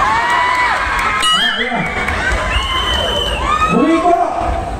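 A crowd at a political rally and march in Freedom Park, Marikina City, cheers and whoops loudly, with shouting voices and scattered clapping blending into a continuous close, energetic roar.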